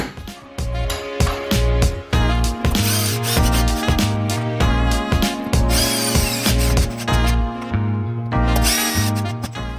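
A power drill drives screws into wedi board during a shower wall tile repair, its motor whining loud and close in repeated bursts that rise and fall in pitch.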